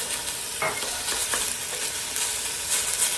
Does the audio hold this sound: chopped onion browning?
yes